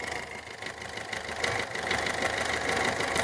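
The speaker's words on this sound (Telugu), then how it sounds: "చూడండి ఇంజన్ సౌండ్ చాలా సైలెంట్ ఉంది" A Maruti Suzuki Swift Dzire VDi diesel engine idles quietly in a steady, low, even rumble with a faint rhythmic knock. No one speaks over it.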